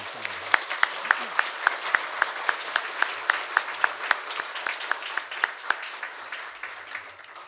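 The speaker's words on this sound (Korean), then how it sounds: "감사의 박수 한 번 부탁드립니다" Audience applause at a Korea University labor-management-government forum: brisk crowd clapping with a run of sharp, evenly spaced claps near the front, thinning slightly toward the end.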